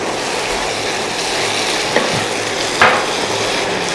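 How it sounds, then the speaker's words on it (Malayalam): Spoon stirring masala with fried onions in a pan for a fish biryani, a steady close sizzle and scrape of frying, with a couple of louder clinks of the utensil against the pan. "എന്തൊക്കെ കാണിച്ചാലും ഇളക്കിലാണ് കാര്യം"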